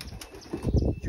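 Racing pigeons beat their wings in a brief, close flurry of soft flapping lasting about a second, with no voices.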